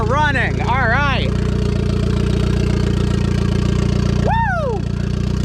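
A turbocharged budget Mazda Miata engine idles steadily just after its first start, a low, fairly quiet drone running throughout while excited voices cheer and talk over it.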